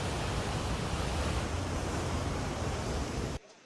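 Grey, lahar-laden water pouring down Bahi-Bahi Falls near Kanlaon Volcano, a loud, dense, steady rush of falling water that cuts off abruptly near the end.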